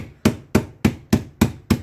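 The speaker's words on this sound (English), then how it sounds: "we got them in a bag, and we're going to beat them up" Nuts sealed in a bag are beaten with a hammer in a kitchen, six sharp, evenly spaced thuds landing about every quarter second, close and without talk.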